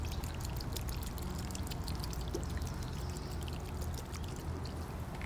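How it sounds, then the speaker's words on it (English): Mustard solution is poured onto soil outdoors for collecting worms, making a steady liquid splashing and trickling that runs continuously at moderate loudness with no voices. "I'm able to pour the rest of the mustard solution on."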